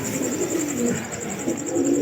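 Pigeons coo steadily in soft, low, rolling phrases, close by, with a faint high whine running underneath.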